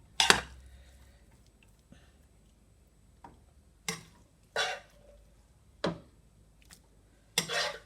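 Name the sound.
stirring vegetables into fried rice in a pot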